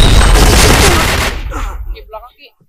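A grenade blast and a burst of gunfire in the shooter Point Blank hit as one loud, close roar that fades over about two seconds, and a voice speaks briefly as it dies away.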